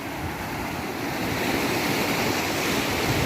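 Steady roar of sea waves washing onto Mithbav beach, continuous broadband surf with some wind noise, fairly loud throughout.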